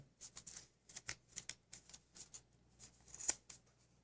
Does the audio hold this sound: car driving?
no